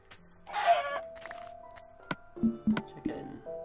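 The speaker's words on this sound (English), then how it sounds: "Chicken. I love a chicken." Minecraft chicken clucks in a short run of clipped, tonal calls, mixed with other game blips and a faint voice in the background.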